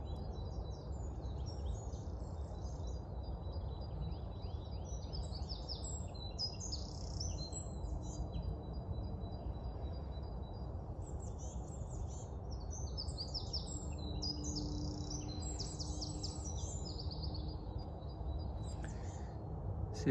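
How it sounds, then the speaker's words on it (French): Several birds chirp and trill in the forest trees, with bright overlapping calls throughout, set against a steady low rumble of background noise. "Vous entendez dans les arbres les oiseaux?"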